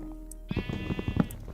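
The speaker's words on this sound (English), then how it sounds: "Get out of there, sheep" Sheep in the Minecraft video game bleat in a short, clear, wavering cry of about a second, loud against a quiet low background hum.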